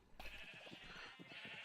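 Sheep bleating in a Minecraft-style video game farm: a steady wavering high bleat begins abruptly and runs on, layered with faint low clunks, fairly quiet and close.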